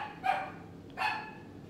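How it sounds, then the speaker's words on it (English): Two sharp dog barks about three-quarters of a second apart, moderately close and fairly loud, against quiet indoor room noise with no talking. "now my dog is just barking"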